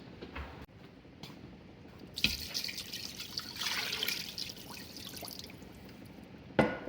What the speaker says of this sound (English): We'll add just a little bit more water to this.